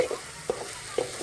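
Eggs sauté with ginger garlic paste in a pan for an egg curry, a steady sizzle broken by two or three sharp spatula knocks and scrapes, close and clear with no talking.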